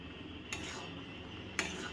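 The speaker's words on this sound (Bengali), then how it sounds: "এই জলটা কিন্তু আমি এবার নেড়ে মেরে নেবো" Rice pulao being stirred in a cooking pot, a steady soft scraping and rustle with two sharper clinks of the spoon against the pot.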